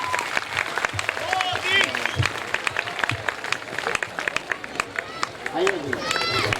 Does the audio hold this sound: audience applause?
yes